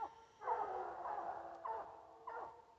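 Coon hounds bay at night during a hunt, a few long drawn-out howls in a row, fairly faint and distant, with no talking.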